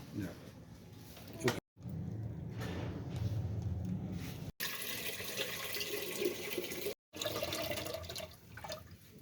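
Water runs steadily from a tap into a container, a continuous rushing hiss with a few brief breaks, close by and fairly quiet.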